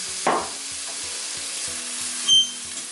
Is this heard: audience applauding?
no